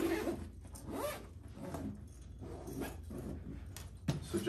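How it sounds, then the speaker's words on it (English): A zipper on a sneaker bag compartment pulled shut in several quick, rasping strokes, close up and fairly loud, with no talking. "So now we're gonna zip these compartments up"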